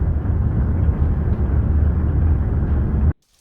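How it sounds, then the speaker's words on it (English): Steady, dense mechanical rumble of gears grinding and turning in the video game Limbo, a low grinding churn running continuously for about three seconds, then cutting off abruptly into silence. "the sounds of gears grinding and turning,"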